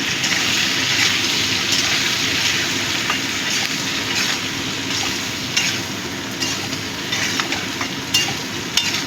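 Ivy gourd (kundri) curry being stirred in a hot pan, a steady broadband sizzle of frying with scraping spoon strokes and small clicks throughout, close and continuous with no talking.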